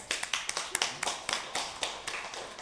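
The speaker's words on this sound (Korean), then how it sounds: "어유 박수" A small group in a classroom claps, producing a loose run of about a dozen distinct, sharp hand claps at uneven intervals, close and fairly quiet, with no talking.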